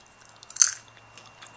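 Crunchy dehydrated sprouted almonds bitten and chewed up close: one sharp crisp crack followed by a few fainter crunches in a quiet room.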